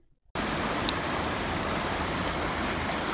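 Flowing river water with steady current, a broadband wash that starts abruptly after a brief quiet moment and then runs continuous and close.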